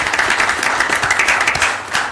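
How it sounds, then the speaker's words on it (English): Brief, loud burst of audience applause at a board of directors meeting, a crowd clapping together for about two seconds and tapering slightly at the end. "y'all can give him a round of applause"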